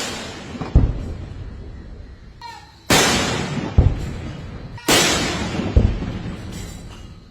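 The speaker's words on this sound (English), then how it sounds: "The traditional gun salute was then performed with the firing of 19 rounds of artillery in honour of Prime Minister Narendra Modi." Artillery guns fire a ceremonial salute honouring the Indian Prime Minister, three loud booming rounds spaced about two seconds apart, each with a long rolling echo, over a faint crowd murmur.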